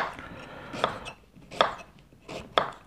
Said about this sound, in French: je vais d'abord faire des gros morceaux avec ma carotte